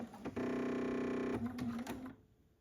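A sewing machine runs a short burst of rapid, even stitches along a narrow fabric seam, loud and close, then slows with a few separate stitches and stops into quiet.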